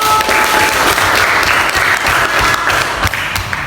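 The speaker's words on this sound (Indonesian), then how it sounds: "Kasih tepuk tangan dulu." A school class applauds a student after a paper tower-building activity, loud, close, continuous clapping from many hands sustained for nearly four seconds.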